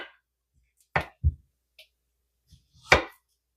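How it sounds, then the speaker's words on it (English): A knife slices food on the diagonal, a few sharp, separate chops against a board with quiet gaps between them, close and crisp. "I like to slice it on the diagonal."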